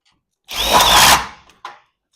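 A power drill drives a self-tapping screw through a steel garage door strut, a loud whining burst of about a second that winds down, followed by a short second spurt of the motor, close up with no talking.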